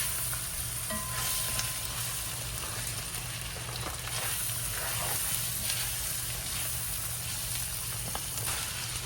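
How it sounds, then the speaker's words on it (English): Corn kernels cooking in browned butter in a pot give a steady, close sizzle and crackle that holds evenly throughout, with a low hum beneath and no voices. "I'm gonna get that corn in there. Get it cooking."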